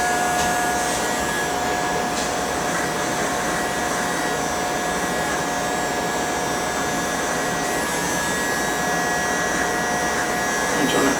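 Hair clippers buzzing steadily and loudly up close while shaving a bald military fade, a continuous motor drone throughout.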